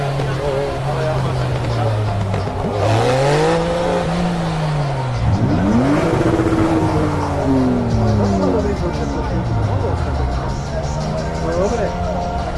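Tuned car at an outdoor tuning show, its engine rising and falling as it passes close by, loud and continuous, with crowd chatter and voices underneath.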